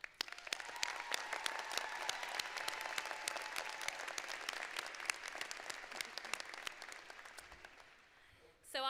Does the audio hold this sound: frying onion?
no